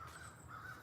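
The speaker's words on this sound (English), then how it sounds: "Birds croaking away." Outdoor birds give faint, distant crow-like caws, two drawn-out calls over a steady background hum.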